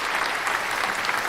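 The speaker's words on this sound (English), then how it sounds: "give her a clap" An audience clapping for a guest on a chat show, a short, dense burst of steady applause from a small crowd, close and fairly loud.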